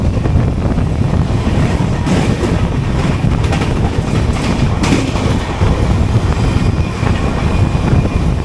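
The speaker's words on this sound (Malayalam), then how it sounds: "ഇത് നമുക്ക് മുന്നേ പുറപ്പെട്ട ചെന്നൈ LTT വീക്ക്ലി എക്സ്പ്രസ് ആണ്." The Chennai LTT Weekly Express, a passing passenger train near Renigunta, rumbles loud and steady with dense wheel noise and faint clickety-clack throughout, heard from close by with no talk.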